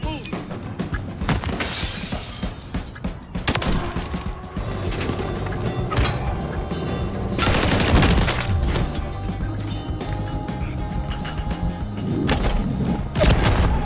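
Repeated explosions and shattering crashes from a Call of Duty-style Search and Destroy match, a player blowing himself up, loud and dense throughout with heavy booming bursts around the middle and near the end.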